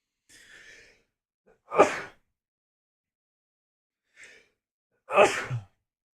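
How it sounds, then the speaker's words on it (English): Two sharp sneezes, each preceded by a soft breathy intake, separated by a few seconds of silence. "I gotta sneeze."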